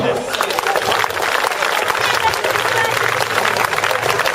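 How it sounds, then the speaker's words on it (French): Dense, sustained applause from a large crowd at an agility team presentation fills the space, steady and fairly loud throughout, with a faint voice underneath. "on peut l'applaudir"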